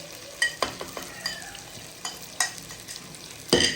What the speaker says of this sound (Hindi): इसको हम अच्छे से हिलाएंगे।